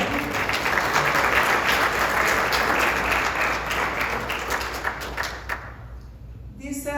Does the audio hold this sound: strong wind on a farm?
no